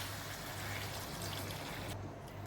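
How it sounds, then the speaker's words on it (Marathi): Hot water pours steadily into a pan of sautéed raw banana, a soft continuous splashing rush that stops abruptly near the end. "त्यामध्ये आपण गरम पाणी ओतूया"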